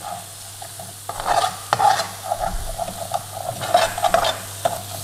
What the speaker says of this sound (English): So get that in there, give it a stir around.